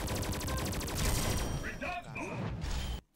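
Rapid bursts of gunfire from the Thai shooting game XSHOT in its mummy-themed Magic Universe mode, dense and loud through the first half, then thinning under mechanical effects and voices before cutting off abruptly.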